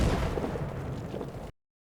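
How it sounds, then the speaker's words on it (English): Distant artillery shelling in the World War One strategy game All Quiet, a continuous low rumbling roar that holds steady and then cuts off abruptly, with no voices. "Shelling is a little more moderate."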